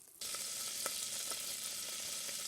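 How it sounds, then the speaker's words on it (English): Sausage and meat frying in a gumbo pot, a steady bright sizzle with faint stirring clicks, close and continuous without any talk. "then I will add my meat, my sausage to it."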